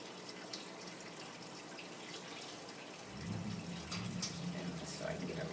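Rendered lard pours and drips into a jar, a soft trickling that starts faintly and grows fuller and steadier partway through, with small splashes audible.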